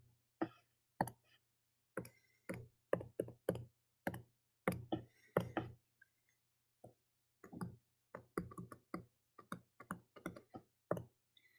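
Calculator keys tapped out a sequence for a geometric sequence problem: many crisp, separate clicks in irregular quick bursts with brief pauses, close and fairly quiet, with no talking over them.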